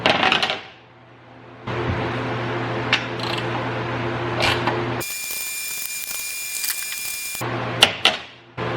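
A wrench cranks side step bolts tight on a 2020 Toyota Tacoma TRD Off-Road, close metallic ratcheting clicks in short bursts with steady background hum between them.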